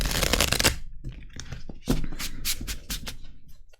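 A deck of tarot cards shuffled close up, with a dense burst of riffling followed by scattered softer slaps and taps of the cards, no voices.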